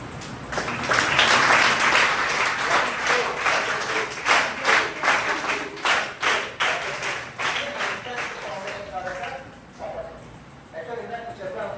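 A crowd of students at a motivational talk in a girls' high school claps steadily, then the applause breaks into rhythmic unison claps before fading, with voices mixed in.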